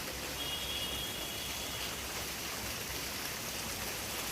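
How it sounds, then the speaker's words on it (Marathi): Steady heavy rain falling outdoors, a constant broadband wash of drops at moderate distance with no breaks or other sounds. "किती पाऊस पडतोय."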